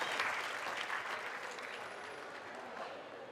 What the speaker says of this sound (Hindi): जोरदार एक बार तालियां सब जरूर बजाएं